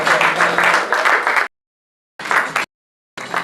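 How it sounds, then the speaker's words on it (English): An audience at a medical event claps to welcome a speaker to the stage: a long burst of loud applause, then two shorter bursts separated by abrupt silences. "a round of applause as we welcome Mr. Donald Ofili to the stage"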